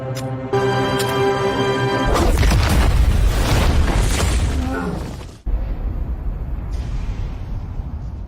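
A big explosion bursts out with a heavy roaring blast, rumbling for a few seconds before cutting off, followed by lingering crackling debris and noise.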